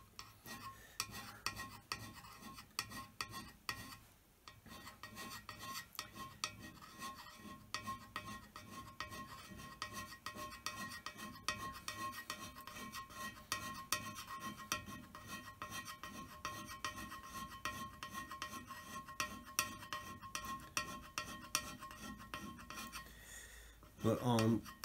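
Steady rasping strokes of a hand scraper with a file handle being pushed across metal, a continuous run of close, repeated scrapes with no voices, ending in a brief louder clatter.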